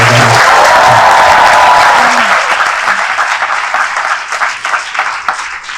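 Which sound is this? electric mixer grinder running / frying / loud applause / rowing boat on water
loud applause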